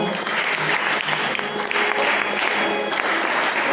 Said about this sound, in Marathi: त्रिशासाठी एकदा जोरदार टाळ्या वाजवा.